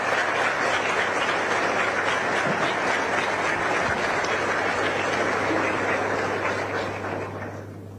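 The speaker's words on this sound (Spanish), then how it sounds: "se merecen un reconocimiento con un gran aplauso de parte de los estudiantes" Students give sustained applause at a school event honoring the director of the binational Yacyretá entity, a dense, steady wash of many hands clapping for about eight seconds that fades slightly at the end, with a low hum underneath.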